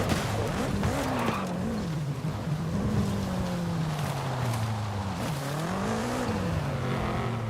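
Cars racing in the video game Forza Horizon 5, including a stock Porsche Panamera, with a continuous engine drone whose pitch rises and falls and tires squealing and skidding throughout, loud and close.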